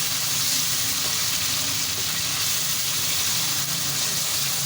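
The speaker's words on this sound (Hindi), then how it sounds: "अदरक का पेस्ट 2 खाने के चम्मच डाल दूँगी। इसको इसके साथ फ्राई करूँगी थोड़ा सा।" Ginger-garlic paste frying in a pan for beef keema karahi gives a loud, dense, continuous sizzle with steady hiss and no break or talk over its whole length.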